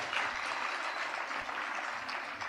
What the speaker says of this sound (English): Could we give them a big round of applause because they're amazing.